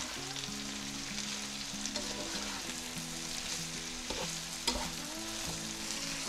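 Onion, sweet pepper and mushrooms frying in a pan with minced meat, a constant sizzle under repeated stirring scrapes and a few utensil knocks.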